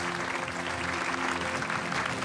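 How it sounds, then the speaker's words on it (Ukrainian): Steady audience applause at the Global Teacher Prize Ukraine award ceremony, a dense, even wash of clapping from a large hall crowd, sustained and fairly loud throughout. "давайте підтримуємо оплесками"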